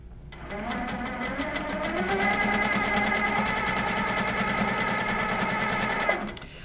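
A sewing machine runs steadily while microquilting on a dense stitching pattern, a continuous close whirring hum with rapid regular needle pulses, alone for several seconds before stopping abruptly near the end.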